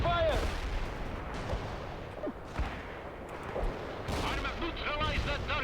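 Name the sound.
gunfire in a battle, from the video game World in Conflict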